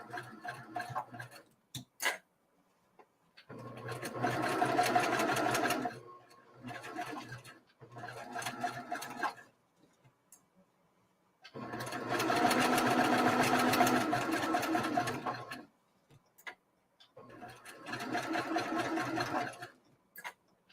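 Sewing machine piecing a star flower quilt block, running in several distinct bursts of a few seconds each with quiet gaps and faint clicks between, moderately close.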